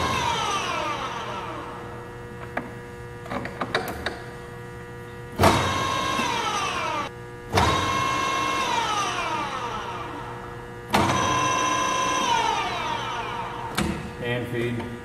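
A Willis RD1300H radial drill runs on power feed, its motor and gearing giving a steady mechanical whine with whirring tones that surge in several bursts lasting a second or two, heard up close with some faint noise between.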